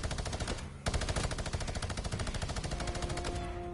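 Rapid drum gun fire in Fortnite, a loud, fast, unbroken stream of shots that cuts in after a brief pause and keeps hammering at a steady rhythm, close and with no talk over it.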